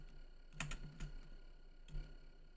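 Someone types on a computer keyboard in a few quick bursts of clicky keystrokes, fairly faint and close, separated by short pauses.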